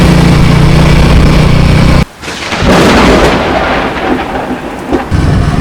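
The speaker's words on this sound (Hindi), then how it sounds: "बारिश ने कुछ इस तरीके से स्वागत किया।" Heavy rain pours down in Arunachal Pradesh as thunder rumbles loudly, the downpour roaring close and continuous with a brief sharp break and deep booming swells throughout.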